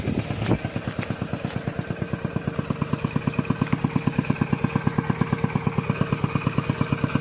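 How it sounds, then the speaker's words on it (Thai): A Phaya Nak water pump engine chugs steadily at close range while pumping water out of a pond, giving a loud, rhythmic, fast-pulsing putter with a few clanks at the start. "เอาพญานาคครับมาสูบ"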